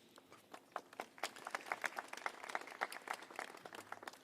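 An audience at a Tenderloin violence prevention community event breaks into dense, sustained applause, many hands clapping steadily at a moderate distance for several seconds with no voices on top.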